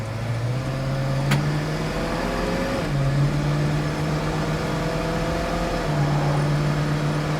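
A 1966 Ford Mustang with front disc brakes pulls from inside the cabin, engine drone rising steadily before dropping at each of two gear shifts, then climbing again; loud and close with no talking.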